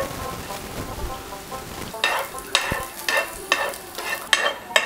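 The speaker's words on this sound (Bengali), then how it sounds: "আমরা একটি ফ্রাই প্যানে একটু ঘি দিয়ে বাদামগুলো ভেজে নেব।" Cashew nuts frying in ghee in a frying pan: a soft, steady sizzle at first, then loud rhythmic bursts of stirring and tossing every half second or so, close up with no talking.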